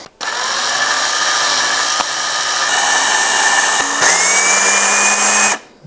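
A power screwdriver runs in a single sustained whine while driving screws during assembly of a LifeSpectrum Linear grow light, loud and close, its pitch stepping up briefly near the end before it cuts off.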